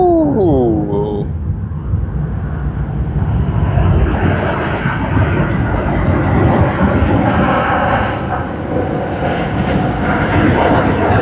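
All Nippon Airways airliner jet engines at Sydney Airport give a loud, continuous broadband roar that swells and holds steady throughout, close and dominant with no breaks.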